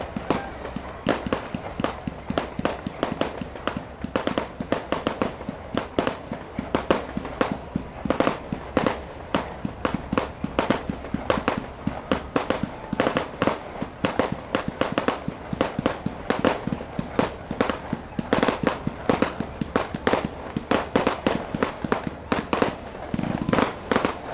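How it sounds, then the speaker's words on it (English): A Zambelli fireworks display over a holiday boat parade in Palm Beach, a long dense barrage of sharp bangs and crackling bursts popping in rapid, irregular succession, loud and continuous with faint crowd sound beneath. "the Zambelli fireworks"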